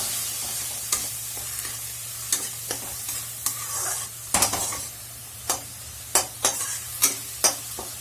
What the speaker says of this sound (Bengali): জিরে বাটা দিয়ে একটু কষে নেবো একটু কষে নিয়ে তাতে টমেটো বাটাটা দেবো